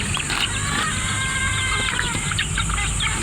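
A Golden Native hen clucks among chicks while being fed, soft repeated clucks and faint peeps close by over a steady background hiss.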